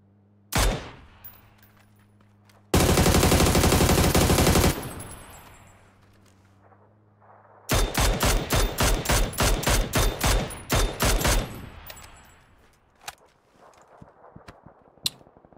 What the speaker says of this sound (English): I'm getting shot at from far.